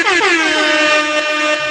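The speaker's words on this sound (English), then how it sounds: "it's called the air horn" A loud, brassy air horn blast fired from a DJ sample pad holds one sustained, bright tone with a slight downward wobble, sounding alone and close.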